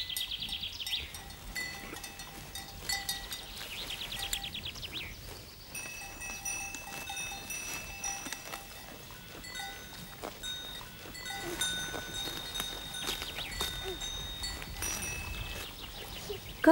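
A herd of goats grazes on an old-fashioned farm, with cowbells clinking irregularly near and far, occasional bleats and birdsong over a quiet outdoor background.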